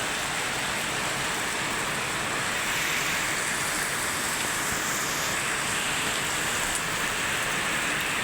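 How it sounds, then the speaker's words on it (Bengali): Heavy rain pours down in a steady, dense hiss that holds evenly throughout, with no talk over it. "দেখুন কি পরিমাণে বৃষ্টি হচ্ছে।"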